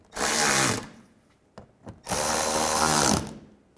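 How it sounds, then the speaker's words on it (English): A power tool drives bolts tight on a 2004-08 BMW X3 during a coolant level sender replacement: two loud, sustained whirring bursts separated by a short pause and a few light clicks and knocks. "Now I'll just go around and tighten them all down"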